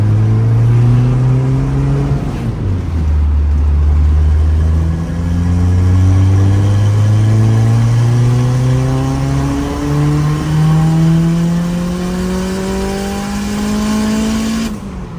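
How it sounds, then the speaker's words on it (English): Turbocharged GT35 F20B Honda hatchback accelerating hard in fourth gear, engine note climbing steadily with a loud, continuous roar, one brief dip near the start, then a long rising pull. "We're gonna do a fourth gear pull."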